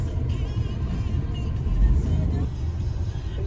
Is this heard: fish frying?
no